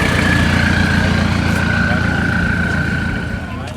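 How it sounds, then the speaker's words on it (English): A diesel Toyota Land Cruiser rolls past at a car show swap meet, its deep steady engine rumble loud and close with a faint whine above, easing off toward the end. "Look at Land Cruiser coming through."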